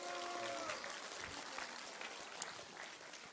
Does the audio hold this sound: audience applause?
yes